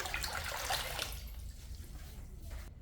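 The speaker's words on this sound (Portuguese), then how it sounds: "Vou acrescentar aqui 8 litros de água em temperatura ambiente." Eight litres of room-temperature water pour into a basin while homemade detergent is being made, a steady broadband splash that is loud for the first second and then thins to a softer trickle.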